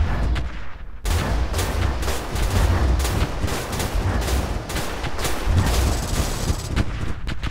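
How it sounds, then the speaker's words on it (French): Dense, continuous rapid-fire blasts and booming shots from plasma cannons in the space strategy game Stardrive, loud and relentless after a brief quiet start. "ça c'est les canons à plasma pour protéger le moteur"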